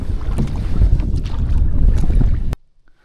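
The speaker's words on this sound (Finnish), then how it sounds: "mun täytyy nyt soutaa tonne vastarannalle" Rowing a small boat across a lake on a freezing night: steady low sloshing and knocking of oars and water, close and fairly loud with wind buffeting the microphone, stopping abruptly after about two and a half seconds.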